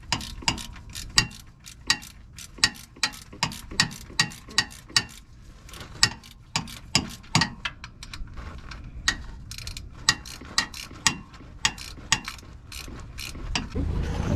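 A ratchet wrench backs off a 15mm nut on top of a 2013 Chevrolet Camaro 3.6 V6 during an alternator replacement, giving a long run of rapid, evenly spaced clicks, close and clear.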